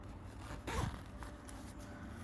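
A zipper is drawn briefly along the fabric of an accessory bag for a 1:6 scale Hot Toys Neo action figure. It makes one short, soft rasp against steady background hiss.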